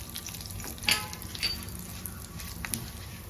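Curry leaves and a little turmeric hit hot oil in a pan, giving a steady close sizzle and crackle with a few sharper pops and spits.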